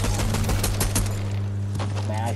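Rapid bursts of automatic gunfire in a Fortnite match, loud and close, with dense repeated shots for about a second before thinning into scattered reports over a steady low game hum.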